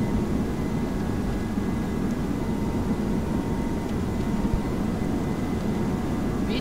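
Airbus A321 engines at takeoff power in the Prepar3D flight simulator: a steady, broadband roar that holds at constant loudness for the whole stretch, with no voices.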